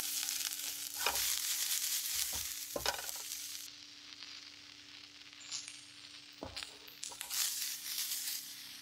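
Par-cooked, blanched broccoli is tossed with tongs in a hot pan over a steady close sizzle, with a few sharp clanks and rustles as the florets are turned. No one speaks.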